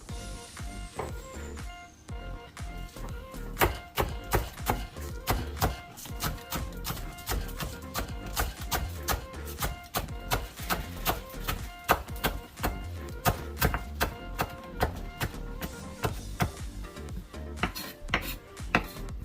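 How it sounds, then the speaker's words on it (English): Rapid, regular knife strikes chopping green onions on a cutting board, crisp and close, chopping steadily without pause and with no voices. "we're gonna start chopping up our green onions"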